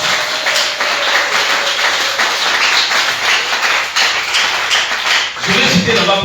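Church congregation applauding and cheering for Jesus Christ, a loud, continuous wash of clapping and crowd noise lasting several seconds.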